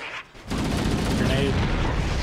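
Rapid bursts of gunfire from the Halo: Combat Evolved video game crackle continuously and loudly after a brief dip at the start, dense and sustained without a clear break.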